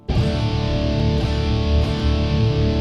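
A single loud electric guitar power chord, heavily distorted, rings out thick and sustained from a sharp strike.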